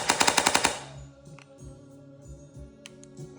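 CYMA Platinum DSG airsoft gun firing, a rapid burst of about eight sharp snapping shots on a 7.4 volt battery, followed by quieter mechanical clicks and rattles.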